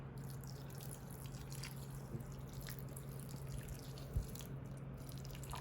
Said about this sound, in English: I'm gonna water it today to make sure that they're getting lots of nice water